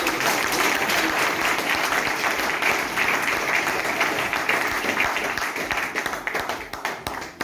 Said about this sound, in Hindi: जोरदार तालियां करें मैडम के